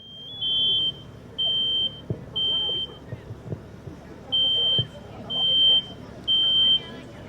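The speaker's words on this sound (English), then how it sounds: "Smoke detector activates pretty quickly." A smoke alarm sounds a series of high-pitched electronic beeps in a steady on-off rhythm during a fire department live burn demonstration in a school room, over background noise and some speech.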